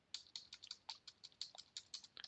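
Fingers type on a computer keyboard in a word-processing session, a quick run of about a dozen crisp, close keystrokes at a soft level, with no talk.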